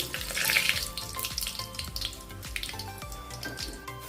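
Water rinsed from a mixer jar with leftover paste poured into a hot pan of whole spices like black pepper, bay leaf and cinnamon, a close bubbling sizzle and splashing that fade over a few seconds.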